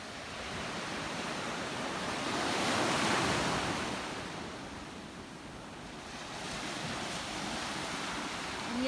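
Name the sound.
ocean waves on a beach at sunset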